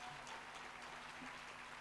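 A crowd at a bursary awards ceremony applauds in a soft, steady patter heard from a distance, quiet and continuous throughout.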